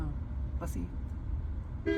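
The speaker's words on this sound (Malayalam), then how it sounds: "ഒരു ഹോൺ അടിച്ചാൽ നമ്മുടെ പ്രസൻസ് അറിയിക്കാൻ പറ്റും" A petrol-electric hybrid car's horn gives two short toots over steady road and engine noise, with a faint voice in the background.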